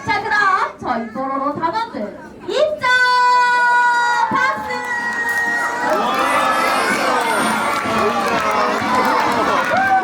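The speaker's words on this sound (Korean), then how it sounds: "저희 단원들이 입장했을 때큰 환호 박수 쳐줄 수 있나요?" Young audience at a Pororo theme park show cheering and shouting loudly as performers enter, a sustained excited crowd roar with high children's voices and clapping, building after a few seconds and staying loud throughout, with music-like tones layered in.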